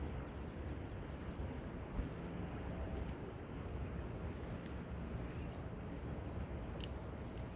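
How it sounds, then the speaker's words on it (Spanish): Water of the Eramosa River in Guelph, Ontario, a steady broadband rush and wash of flowing water mixed with outdoor wind noise, continuous and fairly even throughout with no talk. "vean el agua del río Aramosa en Guelph"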